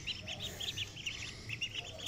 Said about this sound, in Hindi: बतख के बच्चे हैं, ये पानी में अब इनको छोड़ते हैं